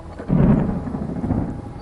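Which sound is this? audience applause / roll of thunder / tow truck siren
roll of thunder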